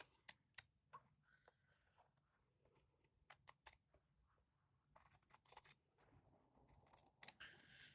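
Scissors snipping through fabric washi tape: sharp, close, irregular clicks of the blades in quick bursts, with pauses between them and busier clusters of cuts toward the end, no voices.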